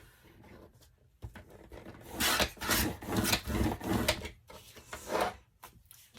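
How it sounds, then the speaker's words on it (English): Scissors or a trimmer cutting a small strip off a paper file folder for a folio, a run of close, crisp rasping snips and scrapes after a quiet start, with no talking. "I'm just going to trim a little smidgen off"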